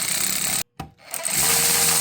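A hand tool ratchets steadily while tightening down a valve cover on a 2008 Lexus IS F, with a close buzzy clicking run broken by a short pause before it resumes.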